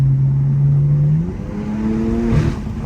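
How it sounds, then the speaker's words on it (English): BMW F80 M3 engine revving on a canyon drive, a steady loud drone that drops as the driver shifts, then climbs again in a fresh rising pull, heard from inside the car with no talk. "The car sounds so good."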